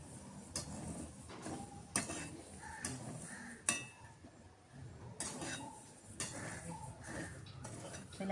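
A spoon scrapes and clinks against a pan while ingredients are lightly roasted for milk payasam, giving a series of sharp metallic taps over a soft background with faint voices.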